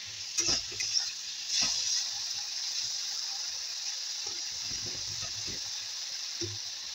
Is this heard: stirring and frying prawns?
yes